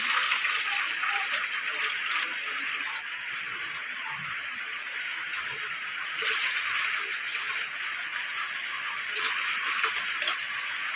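Water poured into a pan while milkfish cooks with garlic in a home kitchen, a steady broadband rush and splash that runs unbroken and fairly loud throughout, with no voices.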